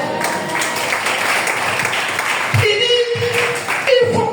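Church congregation applauding the Lord during a French-language Sunday morning service, a broad burst of clapping that thins out, with a sustained musical tone and voices entering underneath toward the end.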